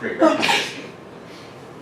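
A lecturer's lone sneeze during a math class on Riemann sums: one sharp burst near the start, then the room settles as talk resumes.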